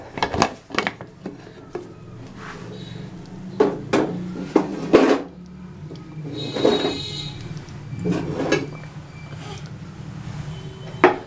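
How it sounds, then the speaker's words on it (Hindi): Pressure cooker lid being opened after the steam has been released, with metal clanks, a twist and a scrape of the lid up close, among other kitchen knocks and clatter over a pot of chicken feet curry. "कुकर में से सारी गैस जो है वो खारिज हो चुकी है। उसके बाद ढक्कन खोलेंगे।"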